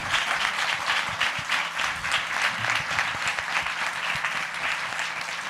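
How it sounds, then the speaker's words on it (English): An audience at a book talk gives a sustained round of applause, dense clapping that holds steady and fairly loud throughout with no one speaking over it. "we will give a round of applause."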